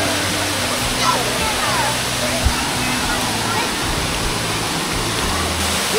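Engkanto Falls, a waterfall in Camarines Sur in the Bicol Region, rushes in a dense, constant roar that fills the whole scene, with crowd chatter and low rumbling underneath.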